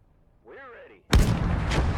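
A tank gun in the WWII strategy game Gates of Hell: Ostfront fires a single heavy, booming shot with a long rumbling tail, preceded by a brief tonal warble.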